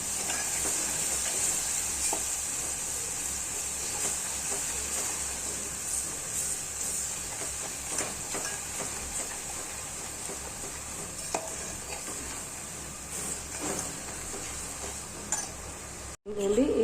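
Ginger-garlic paste and turmeric sizzle in a hot oil tempering for mango pickle, with a constant hiss and the scrape of a spoon stirring the pan, close and even, ending in a brief clunk.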